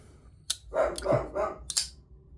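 A dog barks a few times nearby, short sharp bursts spread across a couple of seconds with quiet gaps between them, no talk over it.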